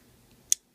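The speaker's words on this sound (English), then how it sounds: "are your spring assisted scissors." Leatherman Wave multitool spring-assisted scissors give a single sharp, close click in otherwise quiet surroundings.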